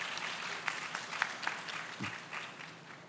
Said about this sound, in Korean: 여러분들 큰 박수